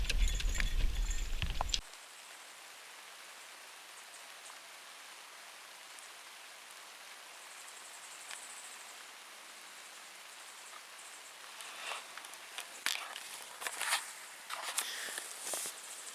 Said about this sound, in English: Got a little bit of a rainy evening on our hands.